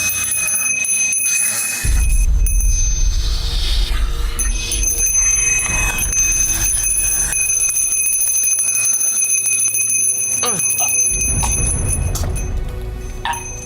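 A bell rings repeatedly with sustained metallic tones layered over a dark, rumbling atmosphere, loud and close throughout, with occasional low thuds and no clear speech.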